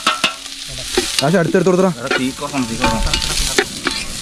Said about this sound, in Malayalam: ആദ്യം ഉള്ളി ഇടുന്നുണ്ട് കേട്ടോ